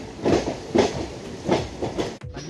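A train rolls along a single track through rainy forest near Dudhsagar in Goa, its wheels sounding a steady rhythmic clatter with faint hiss, close by and fairly loud, broken briefly by a short dropout near the end.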